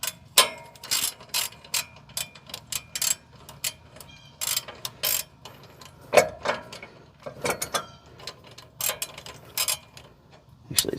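A hand ratchet tightens a bolt on an IAG Rock Armor rear shock skid plate, its pawl clicking in rapid, uneven bursts of close, sharp ticks with short pauses between strokes.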